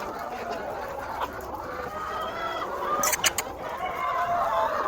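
Large roosters and hens cluck and call at a poultry farm, a busy mix of fowl sounds at moderate distance with a sharper burst of calls partway through.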